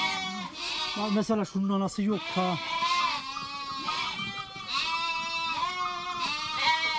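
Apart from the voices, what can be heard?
sheep and lambs bleating as ewes rejoin lambs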